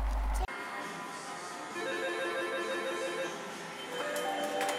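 A telephone rings steadily in a repeating electronic ring pattern for several seconds after a number is dialed, fairly close and alone, with no talk over it.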